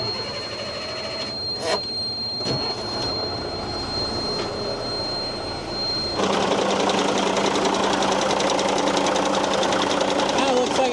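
A 5-ton army truck's diesel engine turns over and starts, settling into a loud, steady, knocking idle close by after a quieter stretch with clanks and voices talking.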